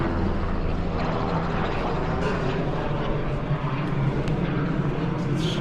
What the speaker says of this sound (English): Helicopter somewhere like that.